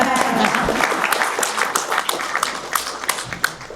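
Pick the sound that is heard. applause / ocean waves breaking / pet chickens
applause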